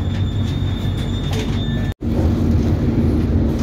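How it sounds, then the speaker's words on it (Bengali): A London Underground tube train rumbles steadily with low wheel and motor noise and a faint high whine, broken by a brief silent gap partway through. "তো আমরা এখন ধরেছি টিউব"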